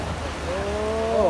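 Heavy rain pours down steadily at a Thai mor lam troupe's outdoor site, a close, continuous hiss of drops with a faint voice beneath it.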